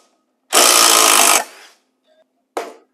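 Hilti Nuron SID 6-22 cordless impact driver sinking a 1/2 by 3 inch lag bolt: a loud, close, rapid hammering rattle for about a second, then a brief second burst.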